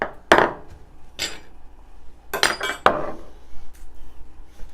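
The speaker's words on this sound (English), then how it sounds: "I'll get the bloody chopping board out of the way." A wooden chopping board knocked and shifted across a kitchen counter, giving a few sharp clattering knocks and clinks at close range, with quieter handling noise between them.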